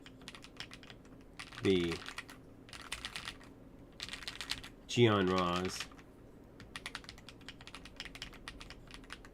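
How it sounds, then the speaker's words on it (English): Rapid typing on a MelGeek Real67 mechanical keyboard, with steady, fast key clicks heard close up and running under two short stretches of someone talking. "which sound like I'm typing a lot faster on it because it has a top out"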